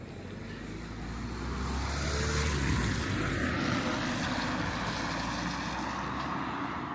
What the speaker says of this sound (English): A lesser spotted car.